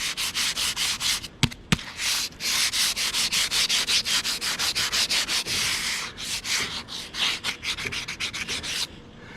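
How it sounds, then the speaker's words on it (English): A sanding pad rubs back and forth over the cast iron of a radial drill press during paint prep, a loud, close, rhythmic scratchy rasp of quick repeated strokes with brief pauses. "just use a sanding pad to smooth it"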